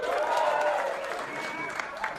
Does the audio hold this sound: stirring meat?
no